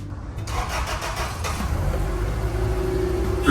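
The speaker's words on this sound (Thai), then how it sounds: "เดี๋ยวฟังเสียงเครื่องยนต์ดีกว่าฮะ ว่าเสียงบีมเนี่ยจะเป็นยังไงบ้าง" Engine of a 1999 Kia Sportage with automatic transmission running steadily, a low mid-pitched hum that builds slightly, with a sharp squeal near the end.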